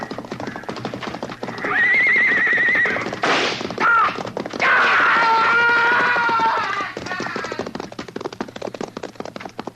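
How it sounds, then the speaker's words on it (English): A horse whinnies loudly twice, shrill and quavering, over a steady clatter of hooves that keeps going after the neighing stops. "he's trying to ride the horse out"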